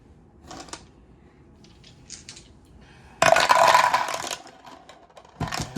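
Dice rolled for a board wargame turn clatter in a sharp, bright burst of rattling midway through, followed by quieter ticks and a second short clatter near the end.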